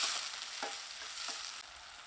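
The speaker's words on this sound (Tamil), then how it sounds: "இதை சேர்த்து நல்லா வதக்கி விட்டுக்கலாம்." Medium tomato with curry leaves sautéed in a pan for poori masala: a soft continuous sizzle with a few light stirring scrapes, close and quiet, no talking.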